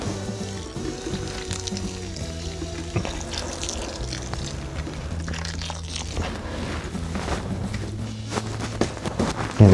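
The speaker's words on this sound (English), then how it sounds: "Let's add a little bit more water." Water pours and trickles into seed starting trays of damp potting mix in a spring garden setup, a close, moderate liquid splashing that runs over several seconds with a louder burst at the end.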